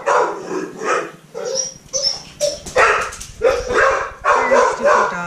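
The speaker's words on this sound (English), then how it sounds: "That's my stupid dog." Pet dog barking repeatedly in a domestic setting, a series of sharp, fairly close barks and yips with short gaps, some whimpering tones between, set off by a car pulling into the driveway.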